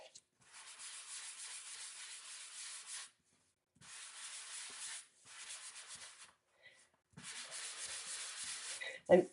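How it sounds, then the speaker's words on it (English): A sanding block rubs along the edge of Gorgeous Grape cardstock to distress it, in three long bursts of close, dry, scratchy abrasion separated by short pauses, with no talking. "a piece of the Gorgeous Grape and my sanding block, and I can just actually distress the cardstock right on the top of it"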